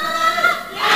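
A badminton crowd at the All Africa Senior Badminton Championship 2022 women's final, Egypt versus Uganda, roaring and cheering wildly, loud and sustained with shouting voices building toward the end.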